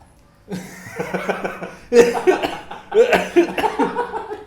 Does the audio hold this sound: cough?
yes